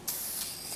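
A spray gun lays a light first coat of polyurethane onto a stained maple Ethan Allen side table, producing a steady, close, hissing spray burst that lasts under a second.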